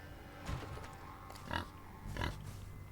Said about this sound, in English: Oh, piggies. I hear you.